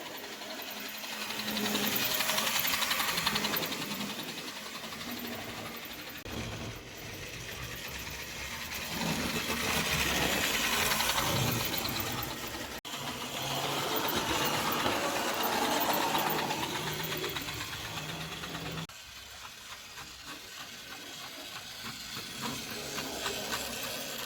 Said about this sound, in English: So the engine's a little bit growly.